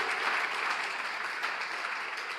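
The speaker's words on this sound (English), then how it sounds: "Put your hands together for the media for us." A college anniversary crowd applauds in a dense, steady wash of clapping that holds evenly from start to finish, close and full, with no voices over it.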